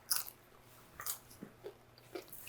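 Crunchy chickpea flour tortilla strips are bitten and chewed up close, a few sharp crisp crunches spaced about half a second apart, quiet and without talk.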